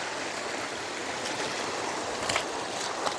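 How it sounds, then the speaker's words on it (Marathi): A small forest stream at night flows with a steady close rushing wash, broken by a few brief splashy bursts. "हा छोटासा ओढा आहे"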